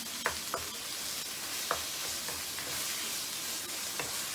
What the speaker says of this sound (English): once I've got everything in, stirred and combined together, I'm actually going to turn this down to low and just let it simmer for a while.